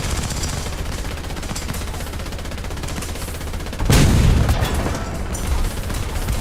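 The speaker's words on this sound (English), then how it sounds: "he's reloading and blasting away with the little gun" A tank's machine gun in the War Thunder video game fires as a steady, rapid rattle. Partway through, a louder, heavier blast hits, and the firing carries on afterward with no talking.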